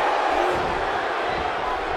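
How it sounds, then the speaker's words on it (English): A professional wrestling arena crowd reacts unhappily to a dragon drop, a broad sustained murmur and jeering from many voices filling the space. "The crowd not happy seeing the dragon drop used"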